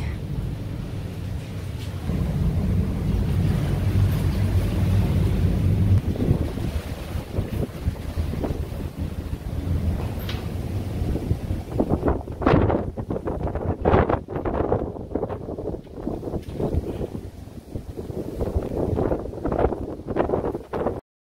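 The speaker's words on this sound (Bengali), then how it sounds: "প্রচণ্ড বাতাসের সাথে এখন আবার শুরু হলো বৃষ্টি।" Strong wind of about 85 km/h with rain at sea during a Pacific cyclone, aboard a ship: a loud, constant roar and buffeting gusts, followed later by sharp irregular bursts of rain and spray hitting close by.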